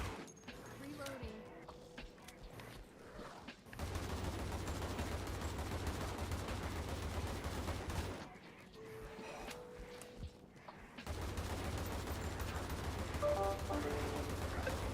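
Gunfire in the blocky zombie shooter Undead Blocks, heard as long stretches of rapid automatic fire with a low, steady rumble, stopping briefly between bursts, and quieter gameplay noise in the pauses.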